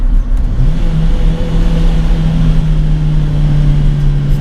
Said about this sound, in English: The engine itself is actually quite revvy.